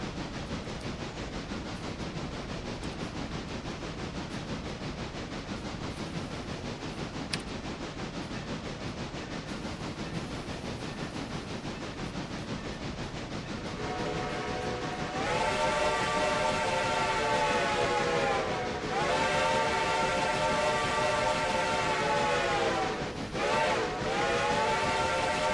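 A train rolls along in the Railroader video game with a continuous rumbling, clattering run, then a loud sustained whistle sounds from about fifteen seconds, broken briefly near twenty-three seconds before resuming, no voices present.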